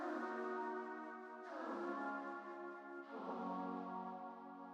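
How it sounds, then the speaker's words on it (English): A sampled flute plays three long sustained notes in FL Studio, each gliding into the next with a soft reverb tail, close and fairly quiet with no voices. "And then this is a flute by Kevi."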